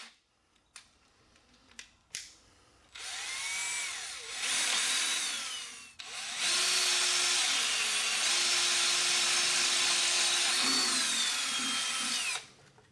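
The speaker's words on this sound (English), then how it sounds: "Then drill 2 13/32 holes." A power drill bores 13/32-inch holes into roughly 3/16-inch-thick steel plate with cutting oil on the bit, for a hydraulic cylinder mount on a backhoe thumb. A few clicks come first, then two long, loud whining drilling runs close by.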